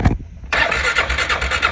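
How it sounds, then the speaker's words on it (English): A four-wheeler ATV that won't start, reportedly getting no fuel and leaking oil, turns over with a brief hitch and then a steady rapid cranking churn, loud and close, with no talking. "my four-wheeler won't start and has an oil leak"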